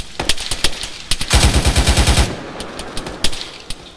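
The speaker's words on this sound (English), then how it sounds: "I think it's the 240 gun" An M240 machine gun fires in the ARMA 3 video game: scattered single shots, then a sustained, loud rattling burst of about a second, then more spaced shots. No voices are present.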